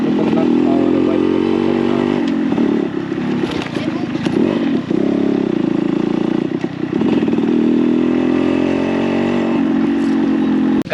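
A Yamaha RX 100 with a chamber exhaust accelerates hard in first gear, its two-stroke engine blaring loud and close with a rough, raspy buzz that surges and dips over about eleven seconds.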